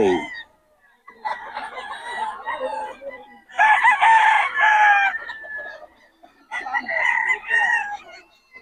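At a busy outdoor market in Bocaue, a young rooster crows loudly and close by, letting out three long, strained calls separated by short pauses.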